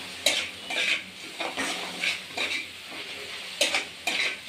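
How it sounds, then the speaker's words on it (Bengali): Spice masala fries in a pan with a soft hiss, and a utensil scrapes and clinks against the metal in irregular bursts of stirring. "মশলাটাকে ভালো করে ভাজবো"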